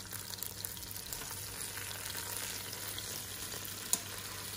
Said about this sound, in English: Do not move them, just let them fry like this for 5 minutes, then we'll flip it to the other side